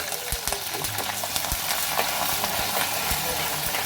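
Curry leaves and green chillies fry in hot oil for lemon rice, making a steady close sizzle with sharp crackles and spoon strokes, no talking.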